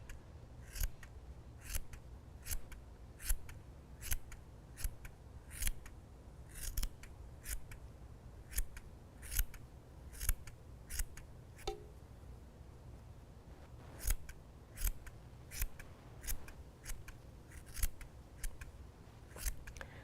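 Scissors trim a yarn pom-pom for a Valentine's heart craft, a long run of crisp, evenly spaced snips close up at roughly one every half second to second.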